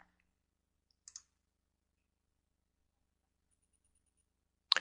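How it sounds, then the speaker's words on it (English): Computer mouse clicking sparsely in an otherwise silent room, with a single click near the start, a quick double click about a second in, and a sharper click at the very end. "You can browse a list of available functions in MATLAB by clicking this icon"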